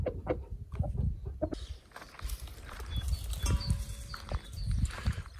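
Brahma and Cochin chickens cluck and murmur on a farm, with scattered nearby calls over a busy outdoor background of rustling and other birds.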